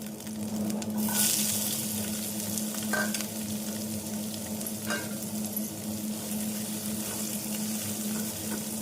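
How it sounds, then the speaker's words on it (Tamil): Garlic, ginger and onion sizzle steadily in oil in a pan with a constant frying hiss, broken by a few light stirring scrapes; no voices. "பூண்டு இஞ்சி நன்றாக வதங்கவும் நறுக்கிய வெங்காயத்தை சேர்த்து விடலாம்"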